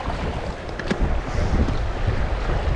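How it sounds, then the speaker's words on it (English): A strong upstream wind blows across a large river, roaring and buffeting the microphone in a steady, loud rush with gusty swells and no voices. "Got a severe upstream wind here"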